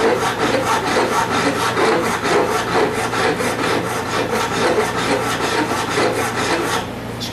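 Wood being rasped by hand with steady, rhythmic back-and-forth strokes of a coarse file, loud and close, with no talking over it.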